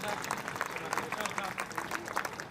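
Audience applause at an alumni meet, steady and moderately loud clapping filling the short stretch, with voices mixed in underneath.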